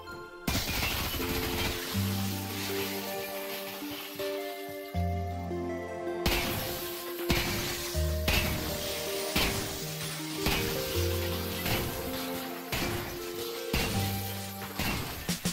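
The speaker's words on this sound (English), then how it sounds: "let's take 15 whole seconds just to appreciate these new glass physics" Glass panes shattering under the physics of a Source 2 video game, with repeated crashes and tinkling breaks scattered throughout, set against continuous rhythmic background music.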